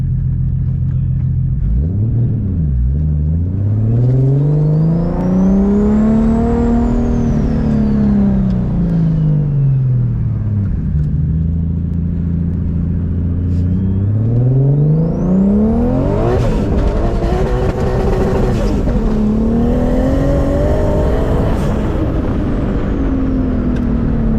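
A 600hp Lexus IS300 accelerating hard from inside the car, its engine climbing and falling through the gears with a loud, rising drone, whine and turbo whistle, then building again to a high-revving pull.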